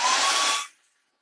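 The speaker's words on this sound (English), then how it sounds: "I'm going to run the hairdryer over this one more time." A hair dryer blows a loud, steady rushing hiss over a Dollar Tree DIY round watermelon sign, then switches off and quickly winds down to silence.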